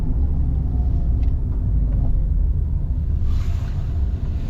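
Fiat Panda 1.2 70 Easy 2019 rumbling over rough, poor road surface, a loud, continuous low road and tyre drone with slight jolts, heard from inside the car with no talking.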